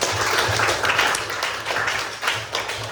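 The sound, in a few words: students applauding in class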